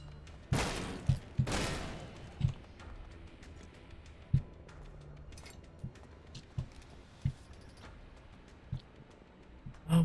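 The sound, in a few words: shots fired at a behemoth in the video game Elex 2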